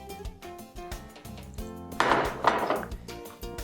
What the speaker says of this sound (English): And then we're going to stir it with a fork